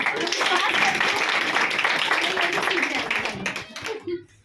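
Clapping from a church congregation fills the whole stretch, a steady dense patter of many hands close by that thins and stops near the end, with voices mixed in underneath.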